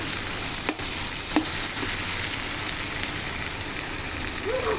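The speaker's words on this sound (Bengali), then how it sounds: "দেখুন কতটা সুন্দরভাবে আমি মাংসটাকে কষিয়ে নিয়ে যাচ্ছি" Pigeon meat sizzles steadily as it is sautéed in oil in a pan, with a continuous close frying hiss and occasional scraping stirs.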